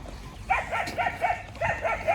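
Repeated dog barks in short bursts, moderately close, with a busy outdoor murmur behind them at a horse and animal fair in Sri Muktsar Sahib.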